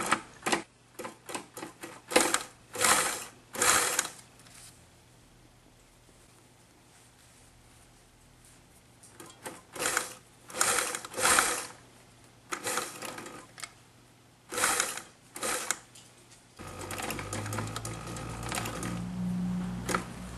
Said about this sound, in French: Donc là, on surpique sur le dessus.